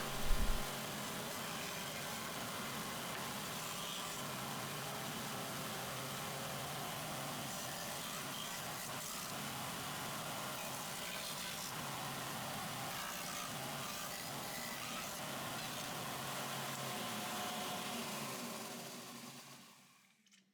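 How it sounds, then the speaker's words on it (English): A disc sander rounding the corners of pieces cut from 1x10 wood boards, running as a steady, dense whir for about eighteen seconds before winding down at the end. "On the disc sander, I finalize them for a perfect corner."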